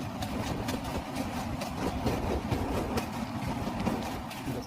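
A local train from Kolkata rumbles steadily across Bally Bridge, with a loud, continuous roar of wheels and a regular clatter of track joints throughout.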